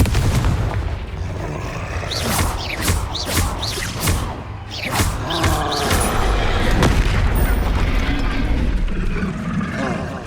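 Repeated Confringo fire-spell blasts in the Hogwarts Legacy video game, a string of loud booming bursts with crackling tails under a continuous rumble, while a player shouts between them.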